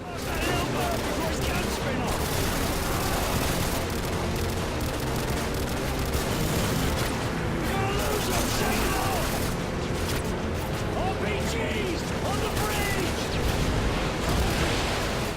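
Sustained gunfire and explosions fill a firefight in the video game Modern Warfare 2, a loud, continuous barrage of shots and booms heard under a person talking.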